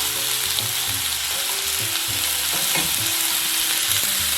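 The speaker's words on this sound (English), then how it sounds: "And stir fry for a minute as well." Chicken fried rice with frozen mixed vegetables stir-fried in a pan, a steady loud sizzle with repeated scraping and tossing strokes of a spatula throughout.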